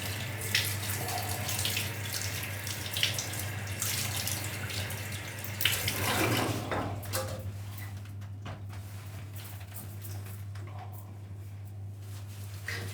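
Steady running tap water splashing as hair is rinsed at a salon basin before fitting a hair replacement system, close and continuous over a low hum, with no talk.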